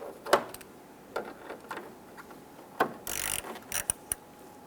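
Screws being started by hand into the top of a grille on a 1995-2001 Ford Explorer: a few sharp clicks and ratcheting ticks at uneven intervals, with a brief scraping rattle near the end, fairly close and alone.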